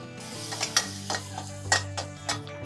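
Garlic and butter sizzle softly in a pan while a utensil stirs and taps against it several times in an uneven rhythm, close and fairly quiet, with no voices.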